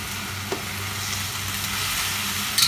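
Kang kong stirred with shrimp paste, cream paste and chicken broth in a pan, a soft, steady sizzle with light scraping stirs and a small clink near the start, close by and alone.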